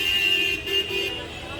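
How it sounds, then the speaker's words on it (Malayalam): Car horns toot over a continuous roar of road traffic near a Mumbai wholesale market, with a sustained honk layered in the noisy street din. "ഹോണും അടിക്കൂ ട്രാഫിക് ബ്ലോക്ക് ഒഴിവാക്കും"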